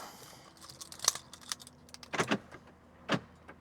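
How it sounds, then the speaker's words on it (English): A BMW with a B58 engine is locked, with a soft mechanical whir and a few sharp clicks and clunks from the locks, close and fairly quiet against a faint background hum. "just want to lock the car"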